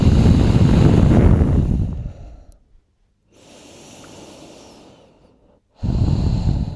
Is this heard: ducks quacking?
no